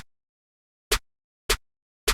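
Crisp layered snare samples crack alone with sharp, bright hits: a decaying tail at the start, then three evenly spaced strikes with short gaps of silence between them.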